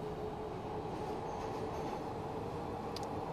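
Glasgow Subway train running in Train Simulator Classic, a steady loud rumble of wheels on track with a constant droning hum and a faint squeal near the end, no voices.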